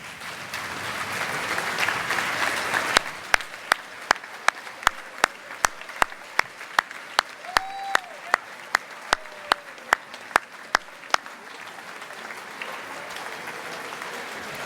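Audience at an arts festival awards ceremony applauding, the scattered clapping giving way to slow rhythmic unison claps that ring out one by one and then fade back into loose applause.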